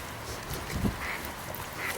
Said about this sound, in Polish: Są kaczki. O, nie, odzywa się, kaczka